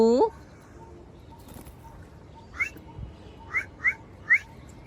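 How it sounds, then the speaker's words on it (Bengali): A pet parakeet (mithu) gives a few short, bright whistled chirps outdoors, one rising call at the start and then four spaced chirps near the end, with soft background noise between them. "মিঠু মিঠু খুব সুন্দর করে ডাকে"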